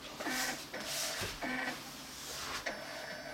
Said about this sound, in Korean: 제가 스캔 버튼 누르겠습니다. 스캔 누르면은